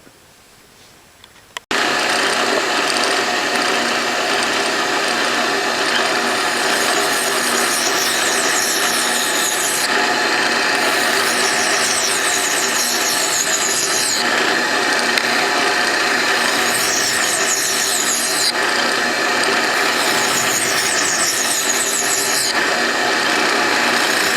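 A file and drill press working a metal fitting for a 1958 Copar Panzer T50 garden tractor, starting with a sharp onset into a steady, loud grinding and rasping that continues unbroken close by, with no talking.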